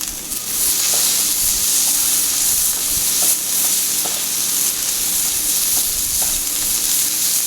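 Onions and green pepper saute in oil on a Blackstone griddle, giving a loud, steady sizzle and hiss. A spatula scrapes and taps now and then, and no one talks.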